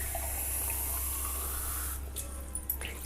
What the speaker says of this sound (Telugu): ఇప్పుడు మంచిగా వాటర్ వేసేసి నీట్గా క్లీన్ చేసేసుకుందాం